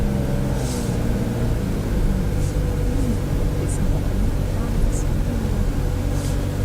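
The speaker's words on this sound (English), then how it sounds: "Out driving around in a fancy new car." A fancy new car climbs a mountain road, with a constant low rumble of engine and road noise filling the cabin, steady and fairly loud from start to finish.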